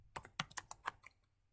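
Quick keystrokes on a computer keyboard, about six or seven close, crisp taps in an uneven burst, then quiet.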